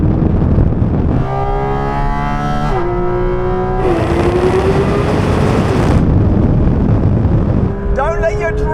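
Porsche 911 GT3 RS and GT4 RS high-revving flat-six engines screaming through gear changes side by side in a drag race, loud and sustained with rising pitch sweeps, an excited voice talking over them.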